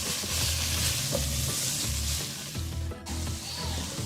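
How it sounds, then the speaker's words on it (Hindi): Carrot halwa with pistachios is stirred and scraped in a pan, a continuous soft sizzle under a steady rhythm of spoon strokes, close and fairly quiet. "अब इस सबको हम अच्छी तरह से मिक्स कर लेंगे।"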